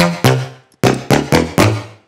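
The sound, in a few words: layered trumpets processed with Sausage Fattener in Ableton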